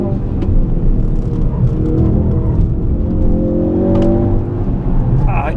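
A Subaru STI on a race track, its engine droning and revving steadily through a corner, loud and continuous from inside the car, with a voice faintly mixed in.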